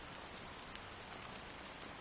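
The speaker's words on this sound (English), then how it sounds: "how long has this rain been going on for?" Rainfall in the Honkai Star Rail video game, a soft, even hiss of steady rain on surfaces with faint scattered drops, quiet and continuous with no voices.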